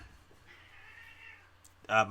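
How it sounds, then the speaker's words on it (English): Cats fighting somewhere nearby: a faint, thin whine drags on for about a second, then a sudden loud, harsh yowl breaks out at the end. "cats are fighting"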